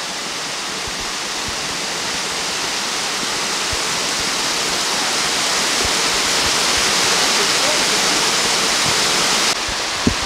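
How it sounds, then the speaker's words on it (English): Brook water rushing steadily along a forest trail in Fundy National Park, a loud, continuous broadband roar that holds constant throughout without any voices. "And a little further up the brook."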